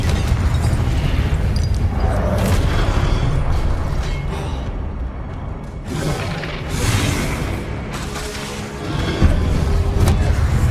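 Confringo fire spell explosions in Hogwarts Legacy gameplay, several booming blasts and crashes in quick succession over continuous game combat noise.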